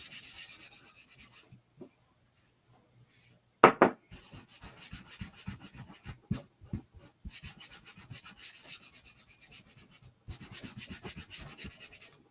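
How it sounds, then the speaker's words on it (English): Wax being rubbed by hand onto a painted wooden cutout, a soft rhythmic scraping and rubbing in short strokes, close up, with a pause partway through and no talking. "I'm just going to lightly put some wax down."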